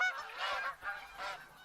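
Several geese honk in the hunting video game theHunter: Call of the Wild, a faint, somewhat distant series of nasal calls in an irregular rhythm.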